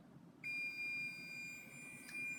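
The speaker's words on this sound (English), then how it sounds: "There's about 7 seconds left, so our timer is gonna go off" Kitchen baking timer going off with a steady high electronic tone that starts abruptly and holds continuously, loud and clear with no talking.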